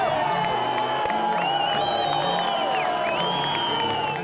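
Rally crowd cheering and whooping as a car jumps, a steady wall of shouts and high whistle-like calls with engine tones swelling through it, loud and continuous.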